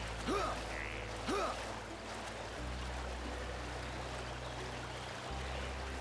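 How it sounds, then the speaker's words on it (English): River water in the video game Xenoblade Chronicles DE flows with a steady, soft rushing hiss that lasts throughout, joined by a couple of brief tonal game sounds near the start. "Looks like it wants us to go up this waterfall. Or just river flowing downward."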